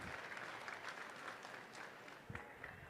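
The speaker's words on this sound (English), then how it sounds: "one more round of applause for Ashlyn Nichols and all of our Spirit" Sustained applause from a college basketball crowd honoring a spirit squad at a Carson-Newman women's game, steady clapping throughout with a few sharper claps near the end.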